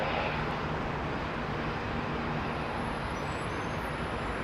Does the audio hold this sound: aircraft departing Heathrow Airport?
yes